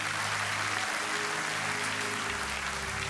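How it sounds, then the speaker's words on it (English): A church congregation applauding together, a dense steady wash of many hands clapping, fairly distant and even throughout, with no voices heard. "let's clap for that"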